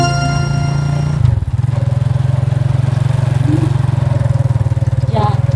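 A motorcycle fitted with a sidecar, the kulong-kulong, idles with a loud, steady, close engine drone, and voices talk over it.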